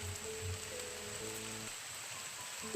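Sudden rain falling after a very hot day, a steady soft hiss of drops on surfaces filling the background, with low tonal hum and a brief sharp tap near the end.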